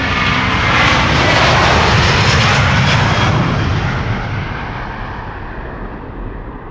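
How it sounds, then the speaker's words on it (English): A Delta Airlines Airbus A330-300 jet departing Schiphol Airport, bound for Seattle, roars loudly and steadily in a broad engine rush that slowly fades as it moves off. "This is Delta Airlines Flight 143 to Seattle, Washington. A330-300 on its way."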